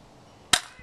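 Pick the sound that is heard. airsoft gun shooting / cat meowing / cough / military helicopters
airsoft gun shooting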